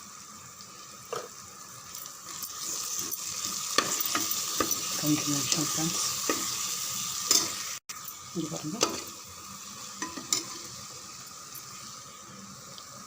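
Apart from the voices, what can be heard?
tomato rice masala sautéing and being stirred in a pan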